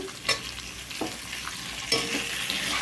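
Cucumber pieces fry in hot oil for a dosakaya dal, a steady low sizzle punctuated by a few sharp knocks of a stirring spoon against the pan.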